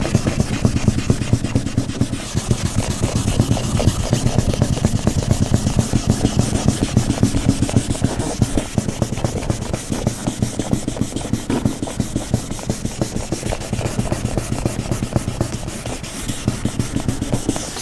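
Steady rhythmic hand sanding of Chrysler Crossfire paint with P800 sandpaper, a continuous close-up back-and-forth rasping that keeps an even pace throughout, with no voices.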